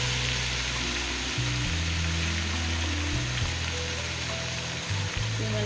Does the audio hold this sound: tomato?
yes